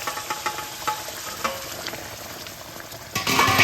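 Fried duck eggs being stirred into a spicy gravy of oil-released masala and hot water, with steady frying hiss and soft intermittent spoon scrapes, the sizzle swelling louder near the end.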